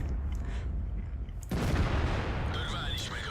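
A tank cannon shot in World of Tanks, an IS-6 heavy tank firing: a sharp boom bursts in midway and rings out over rumbling engine and battle noise, with faint talk underneath.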